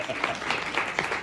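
Concert audience applauding singer Camille Grove at a holiday concert, a brief burst of dense, moderately loud clapping from a crowd.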